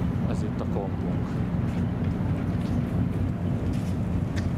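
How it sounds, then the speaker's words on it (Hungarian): Ferry on the Sognefjord in Norway, a loud, steady low engine rumble mixed with wind buffeting the microphone and water wash, continuous throughout, with a voice faintly speaking over it. "Ez itt a kompunk."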